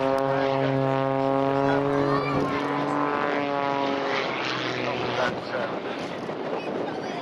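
Pitts Special S2S aerobatic propeller biplane at an air show, its engine drone loud and steady with strong harmonic tones that shift in pitch as it passes, with wind noise throughout.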